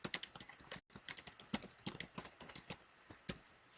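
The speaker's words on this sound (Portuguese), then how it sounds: "Peraí, que eu tô digitando aqui." Computer keyboard typing, steady irregular keystrokes at close range with one brief pause, no voice over it.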